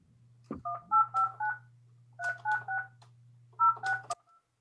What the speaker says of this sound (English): I'm gonna try to call Mr. James and see if you can't hear him via me.